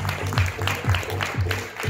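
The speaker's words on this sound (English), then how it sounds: "I'd like for everybody to give a round of applause for my friend Daniel Niaza for last week's performance." A round of applause rises from an audience at a live jam session, a short burst of crowd clapping with uneven, pulsing peaks that blends with low background noise.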